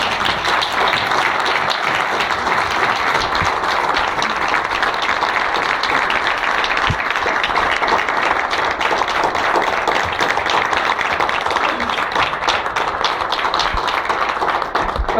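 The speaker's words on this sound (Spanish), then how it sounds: "pediría un aplauso" An audience at a public lecture on peace and non-violence applauds in a steady, dense wash of clapping that continues without break for about fifteen seconds.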